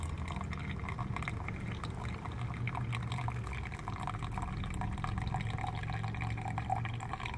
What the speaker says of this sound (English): If I fill this whole entire pot, then I might pour too much water in